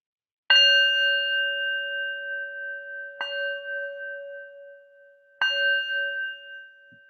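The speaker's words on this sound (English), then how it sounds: "And I'll end with ringing the bell." A meditation bell is struck three times at even intervals, each a clear ringing tone that rings on and slowly decays in an otherwise silent room.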